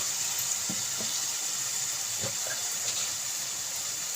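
Chicken with tomato and salt sizzles steadily in a pan for a chicken and brinjal curry, a constant soft frying hiss with a few faint clicks and scrapes, no voices.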